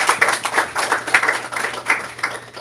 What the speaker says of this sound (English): Brother Amir Chand, let's welcome him with a big round of applause.